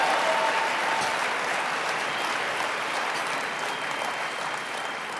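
A large crowd applauds steadily, dense clapping holding at a constant level throughout.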